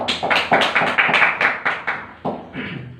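A small classroom group claps for a student after an answer in an Islamic studies lesson, about a dozen close, distinct claps in a loose rhythm that slows and thins toward the end.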